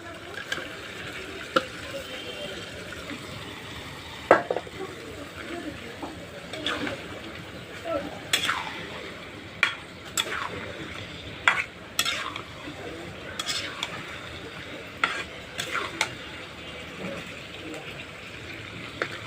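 Eggs and potatoes cooking with tomato in a pan, a low continuous sizzle broken by repeated sharp scraping and stirring clatters.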